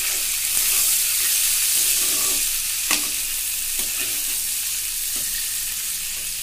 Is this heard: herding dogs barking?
no